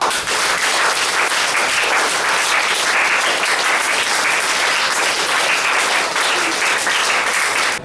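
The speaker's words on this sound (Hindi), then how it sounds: "सब लोग इसके लिए तालियां बजाओ।" Loud, sustained applause from a large audience after a song, steady clapping for about eight seconds with no talking over it.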